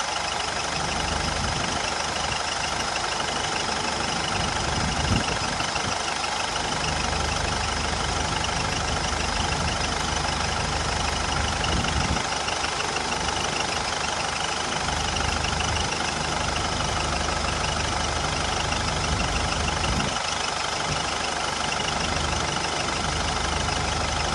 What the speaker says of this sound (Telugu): so every minute to minute ఇంజన్లో నాయిస్ని మనం క్లియర్గా అబ్జర్వ్ చేయొచ్చు